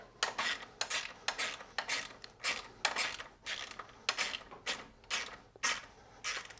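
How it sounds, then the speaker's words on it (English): A 13mm spanner ratchets a lock nut onto a bolt on a BMW R9T pillion subframe, giving a quiet, steady series of rhythmic metallic clicks. "use the spanner end to do the nut up onto the bolt"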